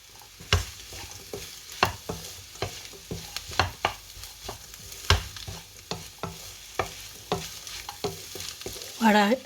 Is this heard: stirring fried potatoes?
yes